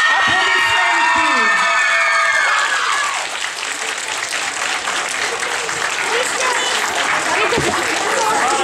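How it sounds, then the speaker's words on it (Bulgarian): At a contemporary dance competition awards ceremony, an announcer's voice rings out over music and is then swallowed by loud, sustained audience applause with some cheering that continues to the end. "Награда за хореография, раздел съвременен танц, получава Иван Стоянов! Аплодисменти"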